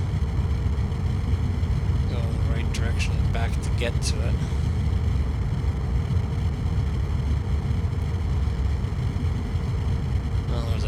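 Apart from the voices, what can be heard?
spacecraft engines thrusting in a video game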